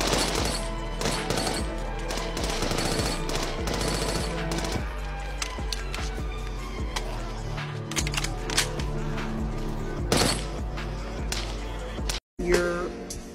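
Loud rapid machine gun fire bursts in quick repeated volleys over a steady low rumble, with a brief cut near the end.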